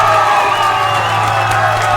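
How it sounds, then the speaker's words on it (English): A crowd cheers and whoops at full volume, a dense and continuous roar of voices with some applause mixed in, close and loud. "let's give everyone a big round of applause for showing up today"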